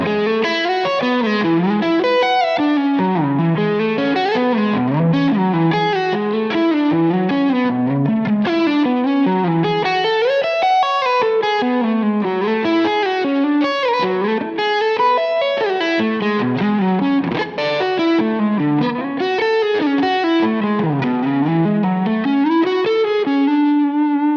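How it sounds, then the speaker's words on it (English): Ibanez AZ Prestige electric guitar through its Air Norton neck humbucker, a warm, effects-laden tone playing a continuous melodic line of chords and single notes, loud and alone for the whole stretch. "I really like this Air Norton humbucker in the neck. It has a really nice warm tone to it."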